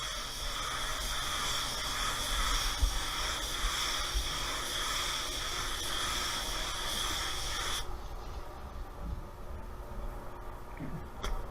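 Spray gun laying a second coat of paint on a 2019 Chevy Colorado, a steady loud hiss of atomized paint for about eight seconds that then cuts off, leaving quieter shop background.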